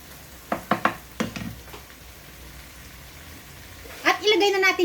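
Tomatoes fry in a pan for cheesy tortang talong with a soft, steady sizzle. A few sharp clinks of a utensil stirring come early, and a person talks near the end.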